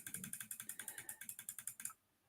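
Rapid ratcheting clicks from an online prize wheel spinning, about twenty evenly spaced ticks that slow slightly before stopping abruptly, close and clear.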